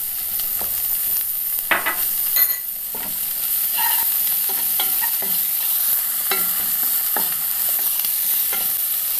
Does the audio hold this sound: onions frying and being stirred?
yes